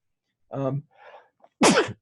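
A person sneezes once near the end, loud and close and abrupt, after a short burst of speech-like voice and a faint breathy sound, with quiet in between.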